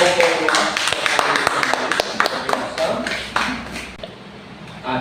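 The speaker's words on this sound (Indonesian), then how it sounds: "Tepuk tangan buat kelompok." Classroom applause for a presenting student group, a few seconds of sharp, uneven clapping from a small crowd, thinning out toward the end with voices faintly underneath.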